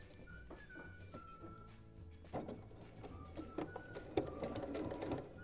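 A sewing machine stitches a protective mask in short bursts, its fast mechanical whirr starting and stopping close by, with a few light clicks between runs and no talk.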